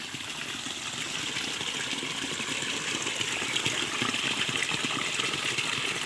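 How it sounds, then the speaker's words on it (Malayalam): Steady, broad rushing of a forest stream where two flows merge, heading toward a large river, a constant gushing hiss with no voices. "നമ്മൾ നേരത്തെ കണ്ട രണ്ട് സൈഡിലുള്ള വെള്ളം ഇവിടെ വന്ന് ഒന്നായി ചേരും"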